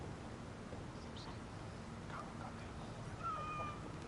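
Cats meow a few times in Assassin's Creed Valhalla, faint and somewhat distant over a steady low game ambience, with one brief higher mew near the end.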